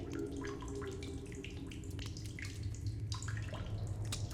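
Water trickles and drips steadily inside a cave in The Solus Project, irregular soft droplets over a low ambient hum, fairly quiet and with no voices.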